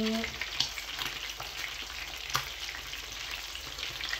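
Tilapia fries in hot oil with a constant, dense sizzle and crackle that stays close and steady throughout.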